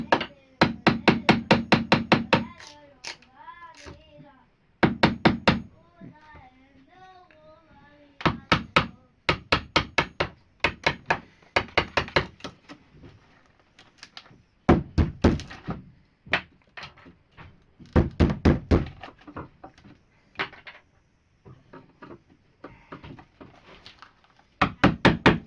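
Improvised chiseling on wood while fitting paneling for a bunk bed, loud repeated knocks in fast bursts with short pauses between them.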